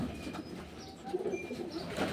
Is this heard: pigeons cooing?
yes